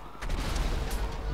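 Gunfire in GTA Online, a dense run of loud shots and booms with a sharp burst near the start and another near the end, filling the clip without a break.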